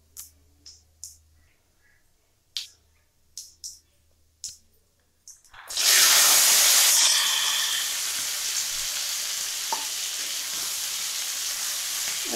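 Green peas are tipped into hot oil with browned cumin in a pan, setting off a loud, sudden sizzle that settles into a steady fry. Several sharp clicks and taps come before it.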